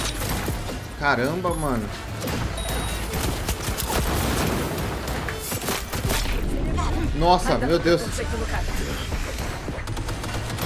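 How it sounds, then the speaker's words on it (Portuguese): Sniper rifle fire in the video game Cyberpunk 2077 cracks out amid busy combat noise and mechanical clatter, with excited voices talking over the shots. "O tiro daquele sniper ali é outro, hein?"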